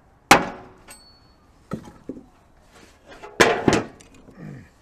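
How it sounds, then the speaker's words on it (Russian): An axe strikes wood to cut a hole for a gutter funnel: sharp, close chopping impacts come in irregular bursts, two heavy hits and several lighter knocks separated by quiet pauses. "так как в прошлом я плотник, мы умеем пользоваться топором"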